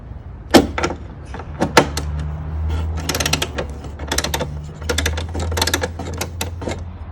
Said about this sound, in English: I'm using a 1/2-inch socket and a ratchet to remove those screws.